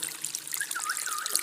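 Spring water trickling inside Siddha cave in Nepal, a soft steady close dribble with bright splashing droplets and no speech.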